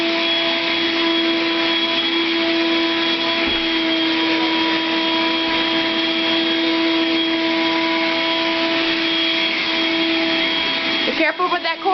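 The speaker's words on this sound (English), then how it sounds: "Vacuum." A household vacuum cleaner runs with a steady, loud whine and droning hum for the whole stretch, close by, ending with a brief clatter at the very end; no one talks over it.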